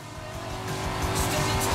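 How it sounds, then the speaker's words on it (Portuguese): Engine of a car accelerating in the racing game Forza Horizon 5, set in Mexico, a steady rising roar with tire noise growing louder over under two seconds, no talk. "Já tô acelerando."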